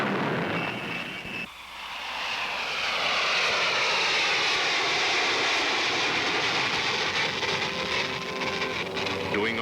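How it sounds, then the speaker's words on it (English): A Lockheed SR-71 jet roars steadily and loudly, its engine noise swelling after a brief dip and holding a dense, sustained rush with a rising whine layered on top. "he test flies airplanes such as the world's fastest jet aircraft,"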